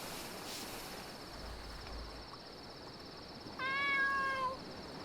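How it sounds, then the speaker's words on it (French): A single short cat meow from Momo in the video game Dave the Diver, a clear tonal call near the end that rises and falls, heard over a quiet steady ambient game background with a high insect-like hum. "Oui, c'est le miaulement de Momo"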